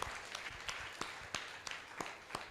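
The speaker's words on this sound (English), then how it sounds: "Let's clap for all of them because they are the one they have made the book successful" Scattered applause from a small audience at a book launch, a handful of distinct claps repeating at a loose, uneven pace, faint and somewhat distant.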